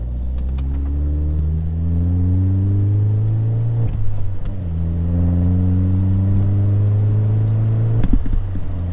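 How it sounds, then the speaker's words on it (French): A rider shifts up through the gears on a 2019 KTM 690 SMC R motorcycle. The engine note climbs steadily and loudly in each gear, breaks off for a shift around the fourth and eighth seconds, and then rises again, with no talk over it. "Je passe les rapports avec la caméra dans la main si jamais."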